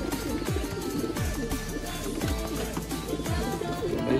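Pigeons, including a Kaliya Kaldooma breed, coo repeatedly in soft descending calls, several birds overlapping close by against a constant background hum.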